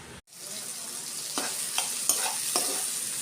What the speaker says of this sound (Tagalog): ginigisa ko na po yung kamatis, bawang, sibuyas